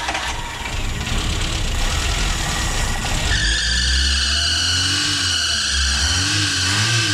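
A car engine with a starting problem catches after a few seconds of rough noise, then settles into a wavering, uneven idle close by.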